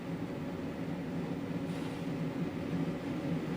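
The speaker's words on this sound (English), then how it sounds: "So there, the compressor just kicked in." Velit 2000U under-bench air conditioner compressor running on a truck or RV, a steady low hum with a faint constant airflow hiss, unchanging and heard alone without talk.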